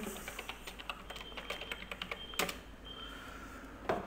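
Password being typed on a computer keyboard: a quick, steady run of soft close key clicks, ending with a couple of firmer key presses.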